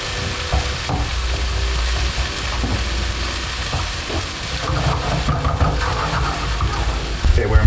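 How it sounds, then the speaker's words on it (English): Onions are stirred and mixed in a pot while cooking, a steady sizzle with scraping stir sounds continuing close and moderately loud, with some light background talk. "Okay, we're mixing the onions."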